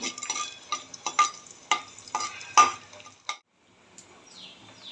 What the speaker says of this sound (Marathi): तूप पातळ झालेलं आहे, मी आता थोडा थोडा डिंक तळून घेते।